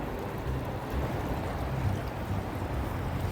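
Whitemud Creek flows into the North Saskatchewan River in March, making a steady, moderately loud rush of running water that holds evenly throughout.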